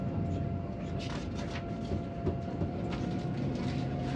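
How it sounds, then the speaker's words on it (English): A smooth, steady rumble of a TCDD YHT high-speed train in motion, Istanbul to Ankara, with a constant tone and faint rhythmic clicks, heard from inside a business class carriage. "the train is quiet and smooth when in motion"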